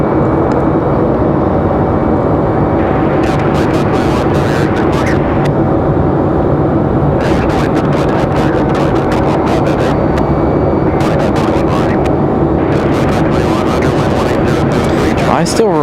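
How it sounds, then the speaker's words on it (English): A Delta Airbus A319 airliner taxiing toward the runway end at Raleigh-Durham International Airport: a loud, steady jet engine roar with a broad rushing hiss that fills the whole stretch without letting up. "Got a Delta A319."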